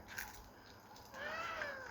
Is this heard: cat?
yes